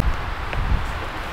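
Strong wind on the Cherni Vrah mountain peak roars steadily against the microphone, a loud, constant low rumble with a few brief thumps and no speech.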